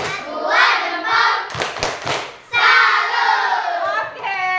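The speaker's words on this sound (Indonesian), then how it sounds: "Tepuk salut dulu." A classroom of students performs the 'tepuk salut' clapping chant, rhythmic hand claps mixed with children's chanting voices, close and lively, with a brief burst of sharper claps in the middle.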